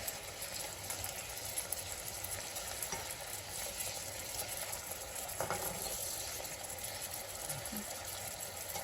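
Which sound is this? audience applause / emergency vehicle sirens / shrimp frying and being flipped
shrimp frying and being flipped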